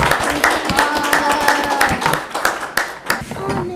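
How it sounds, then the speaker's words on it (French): An audience at a school quiz show applauds the players while judges tally the points, with dense, fairly rhythmic clapping from many hands, close and loud throughout, and a voice speaking over it. "On va vous applaudir pendant que les juges calculent les points."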